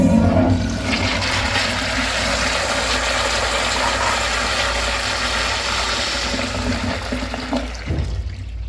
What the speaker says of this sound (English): This thing's basically a miniature toilet that basically flushes liquids